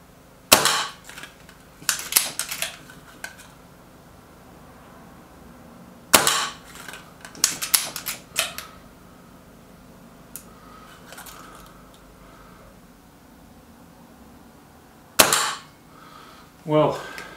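A Stoeger XM1 .22 air rifle fires several sharp shots, spread across the stretch, each followed by clicking and rattling of the action, close and loud against a quiet outdoor background.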